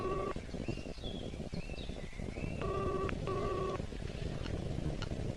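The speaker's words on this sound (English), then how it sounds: "Morse picked up the phone and dialed." Telephone being dialed, a few clear tone beeps in short steady bursts over a faint background with light clicks and distant birdlike chirps.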